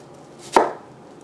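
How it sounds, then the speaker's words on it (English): A single crisp knife cut down into an onion on a cutting board, one sharp close thunk with a brief crunch, alone in quiet. "you are going to cut into the onion all the way down, but you're not going to go to the very end of the onion itself"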